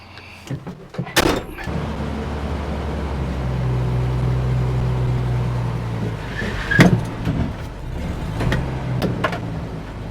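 A manual-transmission truck with bad brakes revs and labors close by under strain while driving up a test ramp, with clunks and a metallic bang partway through.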